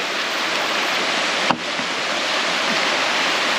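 Water rushing at a forest waterfall, a loud steady broadband roar throughout, with one brief sharp knock partway through.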